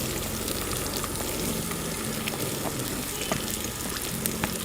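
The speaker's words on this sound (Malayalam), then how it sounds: "സവോള ഇട്ട് കൊടുത്ത് സവോള നന്നായിട്ട് വഴറ്റണം" Onions sautéing in hot oil for a Kerala-style crab curry, a dense continuous sizzle and crackle close up, steady throughout with small pops scattered over it.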